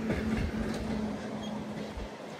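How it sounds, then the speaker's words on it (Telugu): Puri–Tirupati Express train passing nearby, a steady loud rumble of rail cars with a sustained low hum and faint clatter throughout. "పూరి తిరుపతి ఎక్స్ప్రెస్."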